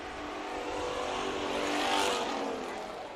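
Race cars circle Bakersfield Speedway during a heat race, with a steady, dense engine roar that swells to a peak as the pack passes close by, then fades slightly.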